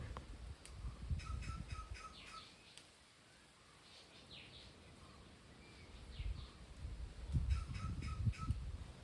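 Small birds chirp in short bursts at a moderate distance in a hilly village, over faint outdoor background rumble, with a quieter stretch in the middle.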